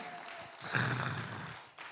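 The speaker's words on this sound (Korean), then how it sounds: "다시 한번 뜨거운 박수 한번 해주시기 바랍니다." A church congregation applauds after a prayer, a brief swell of clapping that rises sharply, holds for about a second, then fades, heard at moderate loudness in a reverberant hall.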